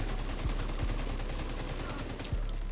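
Pestilence light machine gun firing in The Division 2, a steady dense rattle of rapid shots with a few heavier thumps, continuous and fairly loud throughout.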